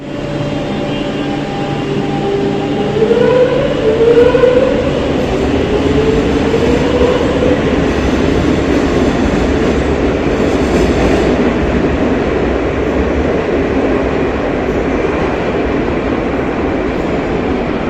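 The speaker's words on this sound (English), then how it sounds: "here is one of the modern trains. This one's got a slightly better VF drive." A modern Madrid metro train with a variable-frequency drive hums and rumbles steadily up close, with a rising electric drive whine as it pulls away, wheels clattering beneath.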